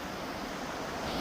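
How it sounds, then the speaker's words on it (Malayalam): A roaring waterfall near Alyth, Scotland, pours as a steady, dense broadband rush that fills the whole short stretch without a break, loud and close, with no voices over it. "വെള്ളച്ചാട്ടത്തിൻ്റെ നല്ല ഭയങ്കര സൗണ്ടാണ് ഇപ്പോൾ വരുന്നത്."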